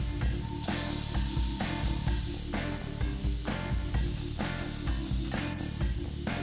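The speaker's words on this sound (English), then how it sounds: "we're gonna now take some flesh tone and just gently airbrush this on" Airbrush spraying paint onto a Venom maquette from a Spider-Man vs Venom set, a steady soft hiss running under louder background music throughout.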